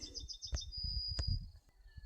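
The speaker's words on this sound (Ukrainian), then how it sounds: "Тільки відійшов на пару хвилин і вже птахи налетіли." Birds raiding a strawberry patch chirp in quick, high repeated calls, with one sharp call standing out over a low outdoor rumble.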